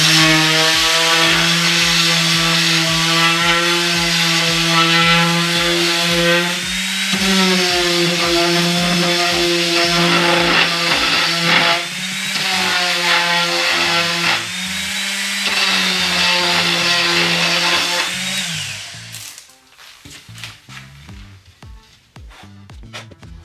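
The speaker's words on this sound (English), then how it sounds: "we're actually going to use a sander to start shading." Electric sander running against a drywall patch during a repair, a loud steady droning whine with a pulsing edge that shifts pitch slightly as pressure changes, then cuts off, leaving faint scraping and handling noises.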